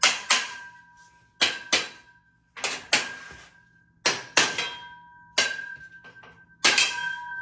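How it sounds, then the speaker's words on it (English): Sharp metallic hammer blows knock the end frame out of a ConnecTube outdoor kitchen module in irregular bursts, each clang ringing briefly before the next, with short pauses between groups of hits. "So now we're taking a hammer and we're going to disconnect the end frame here."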